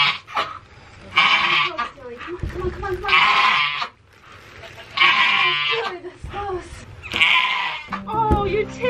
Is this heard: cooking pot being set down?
no